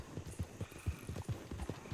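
Repeated hoof clip-clops of a horse approaching in Red Dead Redemption 2, a steady close rhythm of hoofbeats with no talking.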